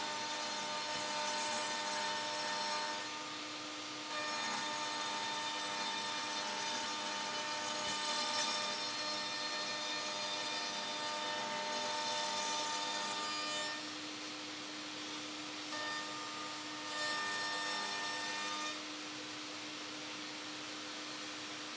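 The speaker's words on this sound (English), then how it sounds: "I just bought some new straight bits for my router, so let's go with the router table." A router table with a new straight bit cuts a test pass on scrap wood, a loud, steady high-pitched whine with brief dips as the wood feeds through.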